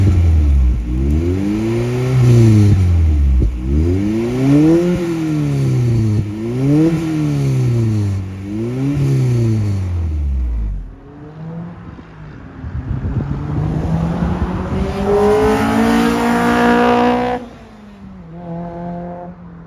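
A Honda Integra DC2 Type R fitted with a Mugen twin loop exhaust revs repeatedly close by, its engine note rising and falling in several sharp blips before climbing in one long high-pitched rev and dropping back to idle.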